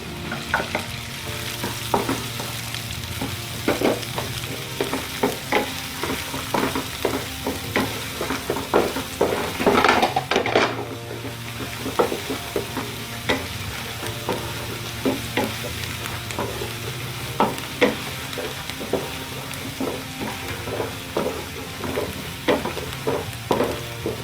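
Garlic and onion sauté in hot oil for vegetable fried rice, a steady close sizzle broken by repeated scraping and clattering stirs of the pan, with a louder burst of activity midway.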